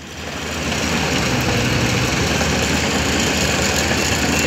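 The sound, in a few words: rice harvester machine engine running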